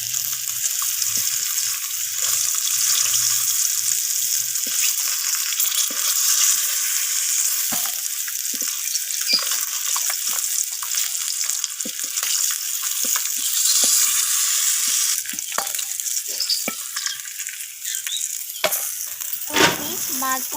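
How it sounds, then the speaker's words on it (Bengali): A bay leaf, whole cumin and chopped onion go into the hot oil left from frying rohu fish, giving a loud, steady sizzle and crackle that runs on without any talk. "মাছ ভাজার ওই একই তেলের মধ্যে ফোড়নে দিয়ে দিলাম একটা তেজপাতা আর গোটা জিরে, আর দিয়ে দিলাম কেটে রাখা পেঁয়াজগুলোকে"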